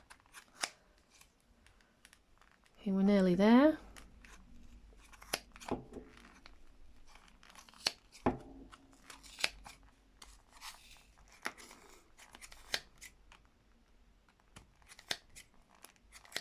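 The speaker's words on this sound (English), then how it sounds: "you want to try and get your scissors into the groove" Sharp fabric scissors snip repeatedly through thick wrapped yarn while making a pom-pom, with crisp clicks, and a brief tonal squeal rises midway; a voice speaks briefly.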